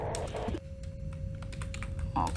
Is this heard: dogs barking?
no